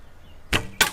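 An arrow is loosed from a bow during outdoor target practice at about 15 to 20 metres, heard as two quick, sharp swishing bursts close together, with no talk.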